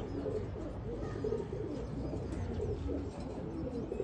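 Domestic Juma pigeons coo in a steady, dense murmur of low calls, close and continuous across the whole stretch with no voices.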